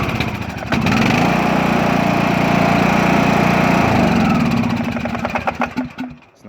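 A Craftsman T2200 lawn tractor engine runs steadily close by, a loud, even drone with a clear pitched hum that holds for several seconds, then roughens and fades toward the end.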